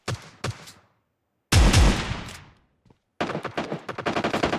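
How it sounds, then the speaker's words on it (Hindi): Gunfire in the video game PUBG Lite: short separate bursts, then a loud blast that fades, then a dense rapid volley of shots at the end, with no voices. "मुझे नीचे की साइड से फायरिंग साउंड आ रहा था, बहुत ज़्यादा फायरिंग साउंड।"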